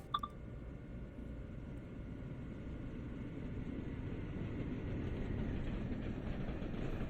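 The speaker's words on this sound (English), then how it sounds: "And we have another oncoming train." In Train Sim World 2020, on an Amtrak route between New Rochelle and Newark, an oncoming train rumbles past with a steady low roar that swells slightly as it goes by, no talking.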